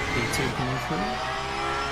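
A P2 prototype race car in a racing video game at Imola roars past with a rising and falling engine note, close and steady, while players talk over it.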